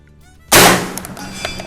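A single loud, close rifle shot cracks sharply at a shooting range with a 200-meter target, then decays into a fading echo.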